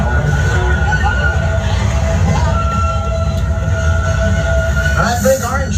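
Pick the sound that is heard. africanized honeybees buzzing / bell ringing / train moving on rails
train moving on rails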